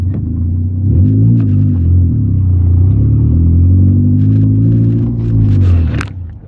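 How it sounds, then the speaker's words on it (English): A homebuilt car on its first test drive gives a loud, close engine rumble that rises and falls as it accelerates and eases off, with a sharp knock near the end. "we are on our first test drive."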